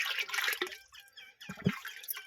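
Liquid pours and splashes while a sprayer tank is filled with a mix for spraying a tomato crop. A close, noisy gush comes first, then a short, deeper sloshing burst.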